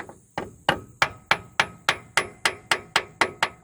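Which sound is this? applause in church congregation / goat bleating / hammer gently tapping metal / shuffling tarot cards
hammer gently tapping metal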